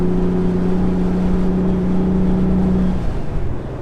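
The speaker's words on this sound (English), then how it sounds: "the engine sounds a lot better now. It sounds happier." A Porsche Speedster's engine drones steadily while driving, a loud, even low hum with constant pitch and road noise, fading slightly at the end.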